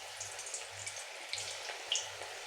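Ragi pakoda dough pinched into hot oil, giving a faint, steady bubbling sizzle with scattered small pops and crackles, quiet and close with no talk.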